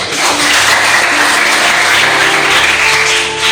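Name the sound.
applause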